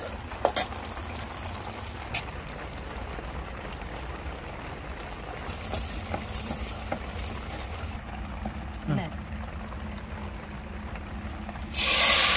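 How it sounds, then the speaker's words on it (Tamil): Oil sizzling and hissing steadily in a clay pot as onions fry for tempering a fish curry, with occasional clinks and stirring, ending in a sudden louder burst of sizzle. "தாளிக்கிறதுக்கு எண்ணெய், அதுக்கப்புறம் வெங்காயம் போட்டாச்சு"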